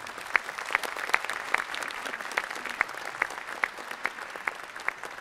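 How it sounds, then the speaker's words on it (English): An audience at a Toulouse Game Show actor conference applauds in a steady, sustained wash of clapping with a few sharper individual claps standing out at a regular beat, with no speech over it. "Eh bien, on peut les applaudir."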